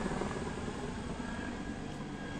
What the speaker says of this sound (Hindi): हेलीकॉप्टर जा रहा है